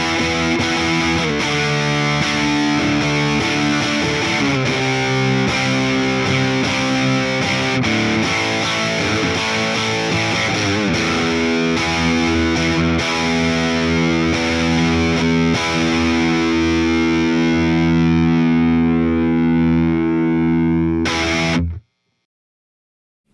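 Electric guitar played through an Orange Box hard-clip distortion pedal, modeled on a Fender Tone Master Pro, styled after the 70s MXR Distortion Plus: loud, saturated sustained chords ringing for about twenty seconds, then cutting abruptly to silence.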